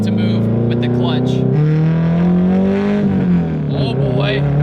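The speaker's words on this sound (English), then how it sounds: "you gotta really rev this car out to get it to move with the clutch" High-revving engine of an 800-horsepower Subaru STI with a 2.5 hybrid motor, a loud close drone rising and shifting pitch, with a person talking over it.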